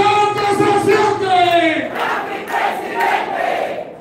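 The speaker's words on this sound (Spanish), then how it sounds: "Un fuerte aplauso para él, por favor." A crowd at a campaign office inauguration in Santo Domingo Oeste cheers and shouts together for a party organization secretary, loud voices swelling in unison in a couple of rising bursts, no clear speech.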